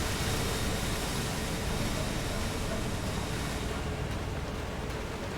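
Rushing waterfall in the video game Elden Ring, a steady broadband roar of falling water that fills the whole stretch at an even, loud level and eases slightly toward the end.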